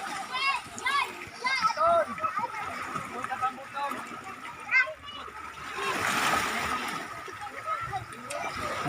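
Splashing of people swimming in the sea off Lipayran Island, irregular bursts of water mixed with children's voices and chatter throughout, with a broader wash of water later on.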